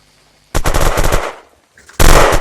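Automatic gunfire in the video game Unturned: a sustained burst of rapid shots lasting about a second, a short pause, then a second loud burst that runs to the end.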